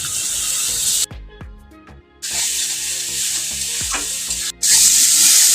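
Tomato pieces tip into a pan of frying bacha fish curry, giving a loud, close hiss of sizzling that breaks off briefly twice, with tonal background sounds during the gaps.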